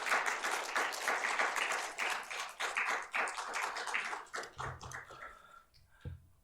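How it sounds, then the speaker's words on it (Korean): A congregation at a Wednesday church prayer meeting claps in quick, rhythmic unison, the beats fairly close and clear before thinning and fading to a few scattered claps. "우리 하나님께 영광의 박수 돌리겠습니다"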